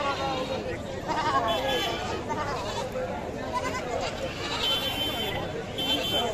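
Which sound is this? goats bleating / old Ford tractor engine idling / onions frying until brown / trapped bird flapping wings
goats bleating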